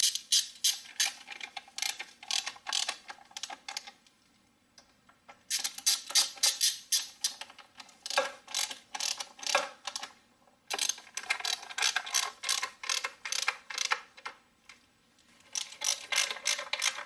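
Rapid ratchet clicking in repeated bursts while valve cover bolts are snugged down on a 2007 Toyota Highlander Hybrid engine, close and loud, with brief pauses between runs and no talk.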